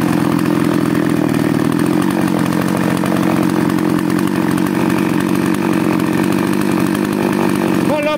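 A Hecht 962 chainsaw engine, warmed up, roars steadily at full throttle for several seconds, loud and close, with a sharp drop at the very end.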